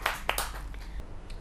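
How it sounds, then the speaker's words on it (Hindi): An audience at a Hindi literary gathering welcomes a poet with a brief burst of scattered claps that quickly thin out within a second and a half. "बहुत ज़्यादा जोरदार तालियों के साथ, करतल ध्वनि के साथ स्वागत किया जाए"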